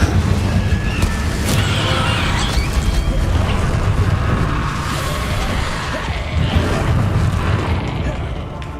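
Explosive and fiery spells go off one after another in the game Hogwarts Legacy, with deep booms and rumbling blasts in a loud, continuous combat mix, while a voice speaks faintly underneath.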